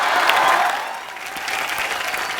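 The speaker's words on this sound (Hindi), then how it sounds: "तो जोरदार तालियों से स्वागत कीजिए मीत ब्रदर्स का" A studio audience on The Kapil Sharma Show applauds loudly to welcome Meet Bros, with steady, dense clapping that eases slightly midway and then builds again.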